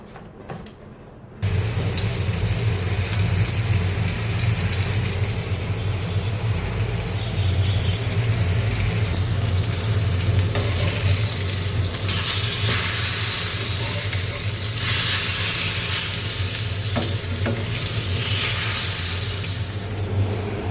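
Eggplant slices rubbed with salt and turmeric fry in a pan, giving a steady, loud hiss that starts abruptly and runs on without pause.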